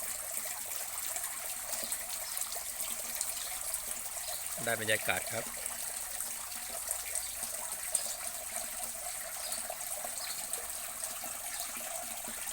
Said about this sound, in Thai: มุมนี้เป็นมุมที่ ชอบมานั่งฟังเสียงน้ำตก